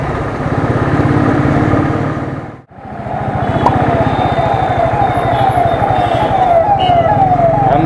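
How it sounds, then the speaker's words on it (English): Ambulance siren on a road, heard while riding a Royal Enfield Thunderbird motorcycle: loud wailing siren sweeping up and down continuously, with a brief dip in the noise partway through, no talking. "Ambulance, always give side to ambulance."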